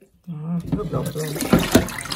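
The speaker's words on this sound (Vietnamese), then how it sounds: "Mình rửa lại nước cuối nha." Coral mushrooms are rinsed in water, giving splashing and sloshing sounds up close, with a voice talking over the washing.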